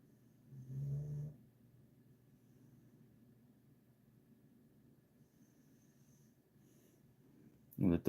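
A sleeping dog snores softly, with a brief louder snort near the start followed by faint, steady breathing and a short sharp noise at the very end.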